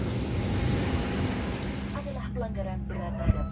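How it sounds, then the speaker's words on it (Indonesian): Inside an airplane cabin on a flight between Java and Lombok, a low, steady engine drone hums throughout, and a voice begins speaking over it partway through. "kita sudah berada di kabin pesawat atau dalam pesawat"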